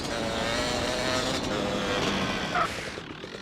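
A motorcycle engine from GTA San Andreas drones and revs steadily at close range for a few seconds, then briefly surges before fading slightly at the end.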